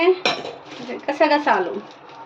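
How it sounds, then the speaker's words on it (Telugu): A spoon stirs a spice mixture with fennel and cardamom in a bowl, giving a few quick metallic clinks and scrapes in an uneven rhythm, close and clear with no talk. "ఇది బాగా కలుపుకోవాలి ఇలా."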